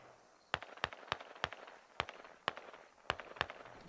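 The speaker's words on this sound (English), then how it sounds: "Those guys are gonna keep walking the mortars in." Mortar rounds bursting in the military shooter Squad, a string of about eight sharp, distant cracks spaced irregularly over a few seconds against a low background hiss, with no talk.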